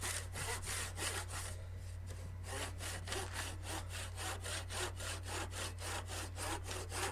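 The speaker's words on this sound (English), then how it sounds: "I do think you can't have too much hand saw action in a woodworking video." Hand saw cutting wood for a guitar build, a steady run of rhythmic back-and-forth strokes that pauses briefly near the start, close and loud over a constant low hum, with no talking.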